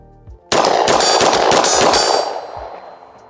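A Fusion Firearms XP PRO pistol fires five rounds in a rapid, loud string at close range, each sharp crack running into the next before a ringing tail fades out.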